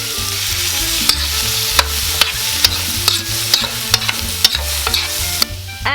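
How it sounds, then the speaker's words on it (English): Tortillas for red enchiladas fry in a hot pan with oil, giving a steady sizzle with sharp crackles and utensil clicks about every half second, close and fairly loud, with no talking. "We're going to let them fry for a few minutes only"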